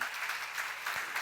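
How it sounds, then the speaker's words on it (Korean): Congregation applauding during a church sermon on the Psalms. Steady, dense clapping from many hands fills the room for about a second, with no talk over it. "박수."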